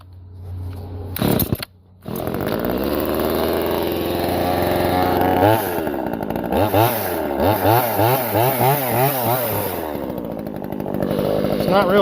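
A Vevor 12-inch gas chainsaw is pulled to start, then roars loudly and steadily close by, with several rising and falling revs of the throttle over the running engine.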